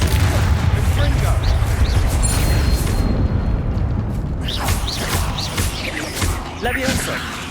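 Explosive blasts from the Confringo spell in the Xbox game Hogwarts Legacy, a cluster of loud bursts and crashes followed by further impacts and rumbling debris in a busy fight.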